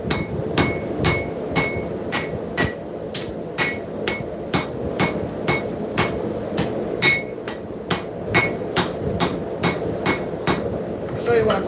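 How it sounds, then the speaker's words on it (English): A rounding hammer strikes a hot steel tip on an anvil in a steady forging rhythm, about twenty sharp ringing blows in quick succession, loud and close with a faint background hum. "We're going to start by forging in our tip with the 2 Bastards rounding hammer."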